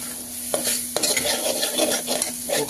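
Chickpeas tipped into spicy masala in a pan, giving a close stirring, scraping and sizzling clatter with a couple of sharper knocks of utensil against pan, no voices.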